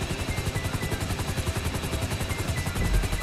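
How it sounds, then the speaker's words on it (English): Medical air ambulance helicopter flying in the video game GTA V, its rotor chopping in a fast steady pulse, loud and continuous with a rising swell near the end. "We've got to use the medical helicopter to steal the goods."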